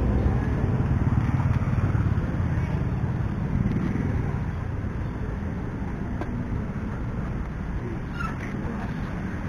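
A motorcycle passes along a street beside a food stall, its engine a loud, close rumble that gradually eases as it moves off, with street noise around.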